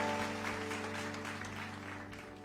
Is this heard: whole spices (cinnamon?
no